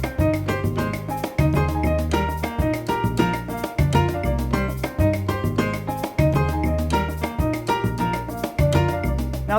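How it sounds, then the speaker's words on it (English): Advanced piano montuno in a steady, syncopated repeating pattern, played with both hands in full chords and bass notes, loud and continuous throughout with no talking. "Montuno number 5 is more of an advanced Montuno, and it sounds like this."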